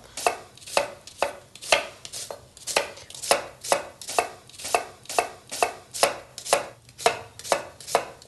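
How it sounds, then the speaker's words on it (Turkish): A knife finely chops an onion rapidly and steadily on a cutting board, in an even rhythm of crisp taps, close and alone. "Bir tane soğanım var. Onu ince ince doğrayacağım."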